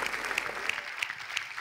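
A studio audience at an Armenian TV comedy show applauds, with brisk, dense clapping sustained throughout at moderate loudness.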